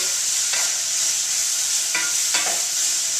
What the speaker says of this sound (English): So I'm going to go ahead and throw my onions in.